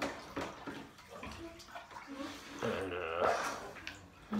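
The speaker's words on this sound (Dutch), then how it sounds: "Ik lig even lekker onder de douche." Shower water running steadily over someone lying under the spray, a close hiss and splatter with gurgling, and a voice briefly heard over it.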